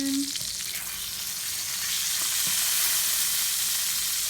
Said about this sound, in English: We just have to sear the one side.